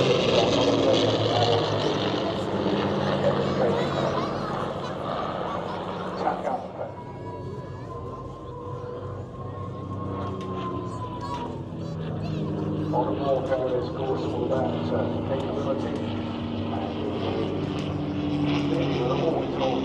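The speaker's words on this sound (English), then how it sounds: "that was the second to last plane we had there, a jet" A jet aircraft roars overhead and fades at an airshow in Southport, a broad droning rumble rising and falling, with people talking nearby throughout.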